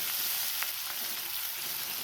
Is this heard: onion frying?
yes